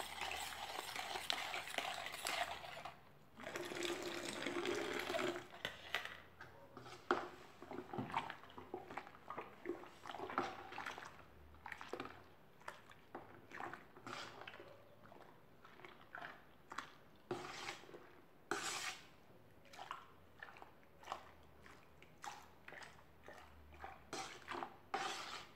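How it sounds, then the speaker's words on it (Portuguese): Homemade soap mixture with baking soda is stirred in a container, giving repeated wet swishing and scraping strokes in an uneven rhythm, close and fairly quiet, with no speech. "Vou mexer mais um pouquinho de bicarbonato aqui."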